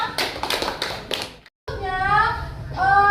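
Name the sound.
children clapping in classroom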